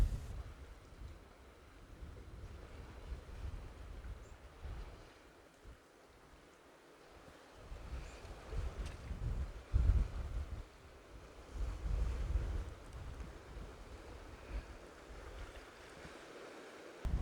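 Steady sea waves wash and rumble against rocks in a cove at Worbarrow Bay, with gusts of wind buffeting the microphone throughout and no voices.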